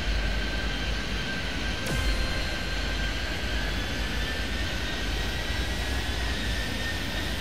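A jet taking off in Airport Madness 3D, a constant loud engine roar with a steady whine, continuous and close throughout.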